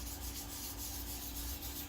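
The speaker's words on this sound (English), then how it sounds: "Just really lightly scuff sand it to see what I've got." Close, quiet light scuff sanding with fine 320-grit sandpaper during a bass guitar build, in quick, even back-and-forth strokes, a soft continuous scratchy hiss with no talking.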